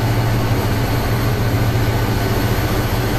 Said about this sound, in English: Glorious engine noise.